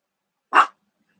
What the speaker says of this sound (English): What are you barking when I'm on here?